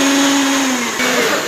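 A kitchen blender whirs steadily as it mixes thick cake batter with vanilla and eggs, a loud continuous motor drone whose pitch dips slightly near the end, with no talking.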